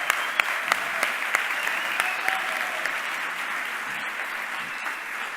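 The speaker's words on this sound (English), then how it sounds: "Give yourselves a big round of applause just for being here" Hackathon crowd at a closing ceremony applauds for several seconds, a steady wash of clapping with a few sharper claps standing out and faint voices mixed in.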